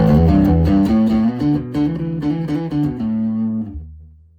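Electric guitar played through a gritty, distorted vintage-style tube amp with treble maxed: a run of picked notes and chords, loud and close, ending on a ringing note that fades out.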